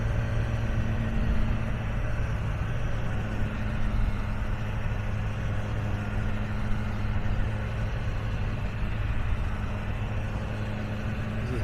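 BMW S1000 R motorcycle easing off while riding, a steady mid-low engine drone with constant wind roar, close and even throughout with no clear rise or fall.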